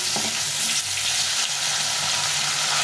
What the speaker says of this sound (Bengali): এখন আলুকে ভেজে নেব।